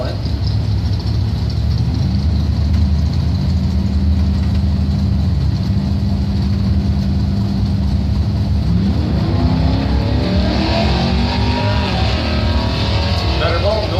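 Engines at a drag strip as a 98 Trans Am lines up against an 87 Mustang, a constant loud rumble that swells into revving near the end, with an announcer talking over it.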